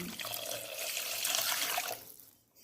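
A vessel of water pours steadily into a pot of salted country chicken for about two seconds, then the stream stops and the splashing fades.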